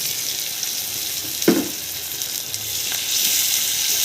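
Onion and tomato sizzle softly in a pan for a sprouted moong dal curry, a steady frying hiss with a brief stir clink partway through.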